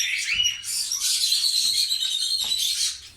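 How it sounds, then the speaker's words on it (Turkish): Budgerigars in a home aviary chirp and warble in a dense, lively chorus of overlapping bright calls, close and continuous, with a few soft rustles beneath. "Burada muhabbet takımlarım var."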